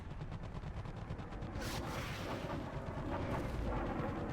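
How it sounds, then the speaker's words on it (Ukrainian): Bradley autocannon, a Bushmaster, fires in War Thunder amid a dense battlefield roar, with sharp repeated cannon bursts over continuous rumbling explosions and artillery, loud and close throughout. "Бредлі нас спокійно пробиває з свого бушмастера."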